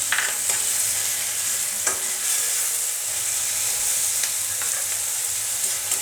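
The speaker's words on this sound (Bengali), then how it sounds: "পেঁয়াজ রসুন মশলাটা, সম্পূর্ণ মশলাটা আমি ভেজে নিচ্ছি" Tomato stirred into onion, garlic and spice mix frying in a pan, a steady close sizzle with scraping stir strokes throughout and no talk.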